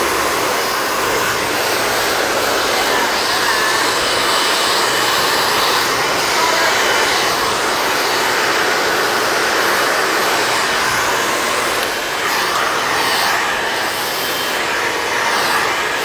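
A hair dryer blows steadily in a salon during a medium-length layered haircut with curtain bangs, a constant loud whooshing hum that runs unbroken without talk.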